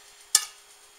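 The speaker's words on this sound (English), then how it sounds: "I'm just gonna spoon some of that marinara sauce right down on it." A single quick wet plop as a spoonful of marinara sauce lands on biscuit-wrapped meatballs, close and short, with quiet before and after.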